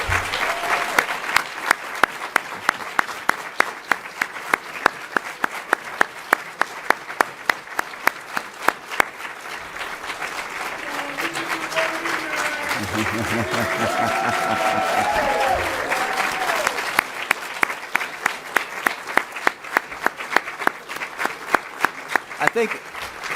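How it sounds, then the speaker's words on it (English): Audience at an Ohio governor's announcement on expedited pardons applauding pardon recipients, sustained clapping with distinct individual claps, while someone speaks over it partway through. "we'll give you an applause"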